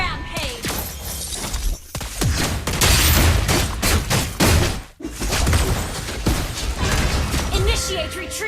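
Rapid gunfire and shattering impacts burst in dense, uneven volleys during a video game battle, loud and close, with game announcer voices cutting in between the shots.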